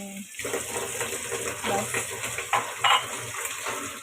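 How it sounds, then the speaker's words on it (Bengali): Water pours into a pot of taro curry in a kitchen, a steady running splash with a few clinks of cookware, close and clear. "আমি এই যে পানি অ্যাড করে দেবো ঝোলের পানি"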